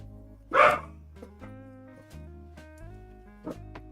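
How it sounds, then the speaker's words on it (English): Dogs barking at a distance, one sharp bark followed by a few fainter yips spaced over several seconds, set against a steady electronic hum in a quiet room. "And there's the dogs."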